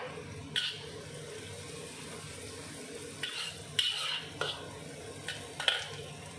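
Curry leaves and lemongrass frying in a pan, a low steady sizzle broken by several sharp bursts of spattering and stirring clatter.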